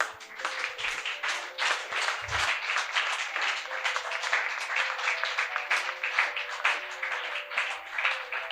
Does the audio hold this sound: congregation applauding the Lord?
yes